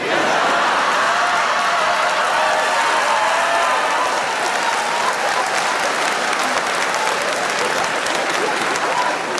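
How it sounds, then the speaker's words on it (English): Comedy show audience clapping and cheering, a loud, dense, continuous wash of applause with crowd noise sustained throughout, close and full. "even though you're clapping and you're cheering"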